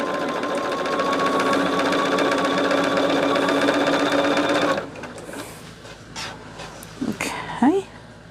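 A sewing machine stitches a scrap quilt block with a steady whirring hum for several seconds, then stops, followed by faint handling noises and a few short squeaky sounds.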